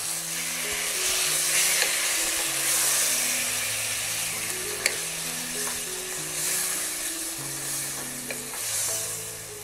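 Pumpkin leaf curry with coconut milk simmers over a low flame in a pan while being stirred, giving a continuous soft sizzle and scraping, with a melodic tune playing underneath.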